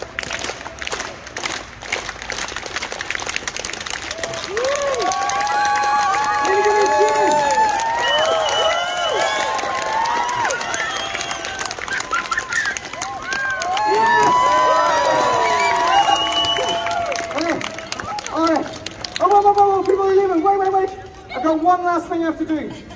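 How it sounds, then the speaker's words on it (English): Festival street-show audience at the Edinburgh Fringe clapping and cheering in a steady wash of crowd noise, with children's voices and shouts rising over the clapping; loud and sustained throughout, no clear slow rhythmic clap standing out. "join in with a nice, slow hand clap all together"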